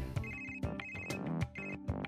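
A mobile phone ringtone for an incoming call plays a bright repeating melodic pattern of rhythmic tones and beats, heard alone without speech.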